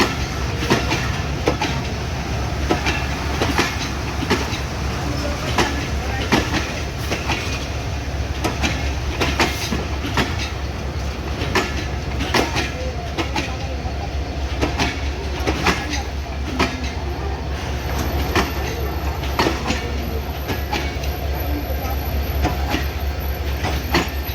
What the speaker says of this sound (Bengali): নিজের স্পেশাল ট্রেন জয়দেবপুর থেকে ছেড়ে আসা পার্বতীপুরগামী